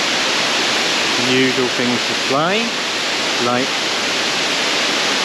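Steady broadband roar of the Hareshaw Linn waterfall in Northumberland, heard up close and loud throughout, with someone talking over it briefly.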